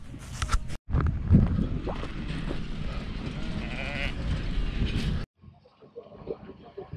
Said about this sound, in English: We're taking them out of the holding paddock so that we can start on the next mob.